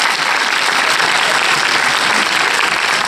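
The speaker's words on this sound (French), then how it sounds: "On peut l'applaudir." Dense, loud applause from a theater audience at a film premiere, steady continuous clapping filling the whole moment without pause.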